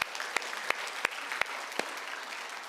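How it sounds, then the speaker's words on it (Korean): A church congregation claps together during a Sunday worship service, a broad wash of steady applause with a few sharper individual claps standing out, sustained throughout. "하나님께 영광의 박수 올려드립니다."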